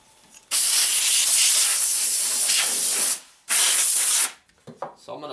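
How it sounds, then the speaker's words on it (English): Compressed air sprayed inside a computer case, two long loud hissing bursts close by, the first about three seconds and the second shorter after a brief pause, followed by small clicks and handling noises. "that'll allow you to spray inside with air"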